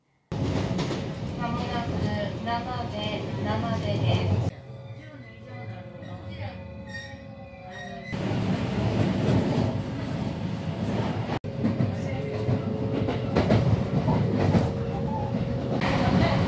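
Steady rumble of a train rolling along rails in rural Japan west of Kyoto, with a quieter stretch in the middle and rhythmic track noise throughout.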